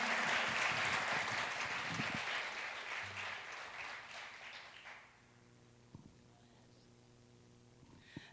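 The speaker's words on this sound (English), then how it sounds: "Another round of applause for Mia Rivera" Warm applause for a young singer at a jazz music intensive performance, full clapping that swells then fades out after about five seconds, leaving a quiet room with a few faint taps.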